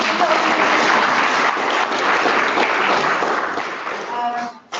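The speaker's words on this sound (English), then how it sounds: "I think we give Miss Harry a clap" Guests at a school induction evening reception clap for Miss Harry, a dense, steady round of applause that fades near the end as a voice briefly begins.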